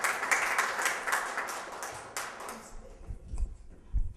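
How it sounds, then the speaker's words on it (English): A small audience at a community unity gathering gives a brief burst of hand clapping, fairly faint and sparse, which thins out after about two seconds into scattered claps and low background noise. "Give yourselves a round of applause."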